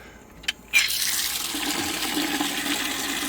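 Tap water starts with a sudden gush and pours steadily into a bucket to fill it, following a brief click, and the rushing stream stays loud and continuous.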